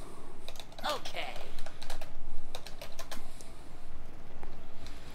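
Rapid clicking of computer keyboard keys during a Smite Joust 3v3 match, steady typing through the whole stretch with one brief spoken word partway in.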